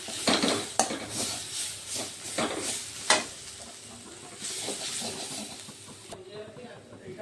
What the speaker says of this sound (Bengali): এগুলোকেও আমি ভালো করে এখন প্রথমে একটু কষিয়ে নেব।